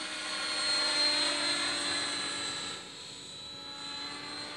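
A radio-controlled Outrage Fusion 50 helicopter whines steadily at some distance, its high-pitched rotor and motor tone holding even, easing slightly quieter partway through.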